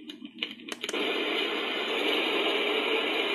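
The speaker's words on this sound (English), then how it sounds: "That's rain." The rain sleep sound on a Sharp projection alarm clock starts after a few button clicks as a steady, even hiss, like soft rainfall. It plays from a small speaker and continues without a break.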